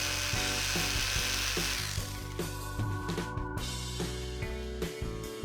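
A power tool cuts steadily into the soft metal shell of an air compressor end cap, trimming its end off with a continuous whining grind and a run of sharp ticks and knocks throughout.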